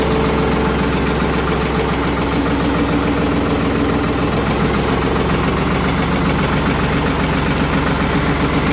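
Ford 4110 tractor engine running steadily, a loud, close, continuous diesel rumble with a rhythmic knock as the throttle is opened, alone without talk.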